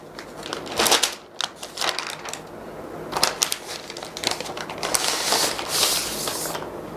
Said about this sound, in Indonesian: di sini ada plastik kecilnya, kita coba buka